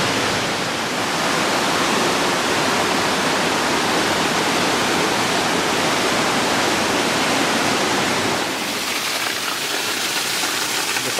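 A waterfall in the Blue Mountains of Australia pours with a loud, steady broadband roar that runs unbroken from start to finish, its texture shifting slightly near the end.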